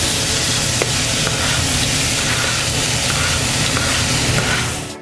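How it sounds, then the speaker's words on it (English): Chinese sausage and sticky rice filling frying in hot vegetable oil gives a steady, close, loud sizzle with a constant hiss that runs unbroken before tapering off at the end. "You're just going to heat it with some vegetable oil, and then we're just going to add in all our filling for the rice."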